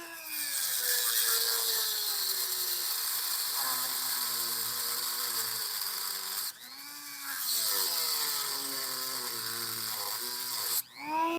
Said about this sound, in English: I took my Dremel and I cut diagonally across this way